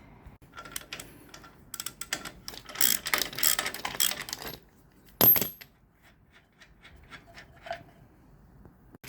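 A wrench working a stubborn nut on a boat trailer brake, bursts of metallic ratcheting clicks and clanks, with a sharp metal knock midway and scattered lighter taps afterward, close and alone.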